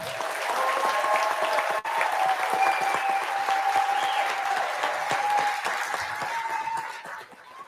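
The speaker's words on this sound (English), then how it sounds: "Let's give one more round of applause" A graduation crowd at a police academy ceremony claps in sustained, dense applause, loud and close, holding steady for several seconds before tapering off at the end.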